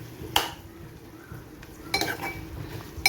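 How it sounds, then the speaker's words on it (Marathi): A spoon stirs potato and fenugreek bhaji in a pan, giving a few sharp metallic clinks against the pan over a low background, near and fairly quiet. "आणि चमच्याने सारखी ती भाजी मिक्स करत राहायची आहे."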